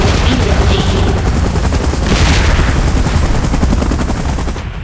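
Helicopter in the PUBG Titans: The Last Stand mode, a loud, dense rotor roar filling the whole stretch with no pause, rumbling heavily up close.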